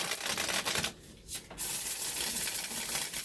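A deck of playing cards is shuffled up close, with a steady riffling rustle that drops out briefly partway through before the dense flutter resumes and runs to the end.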